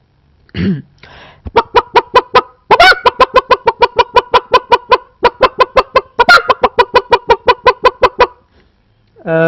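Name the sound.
voice imitating a disturbed hen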